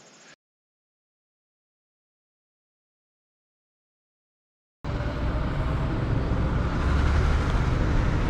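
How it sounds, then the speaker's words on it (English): Trucks driving past on a road: a brief faint burst, several seconds of silence, then a loud, broad roar of passing traffic that builds and holds steady to the end, with no voices. "Oh, these trucks."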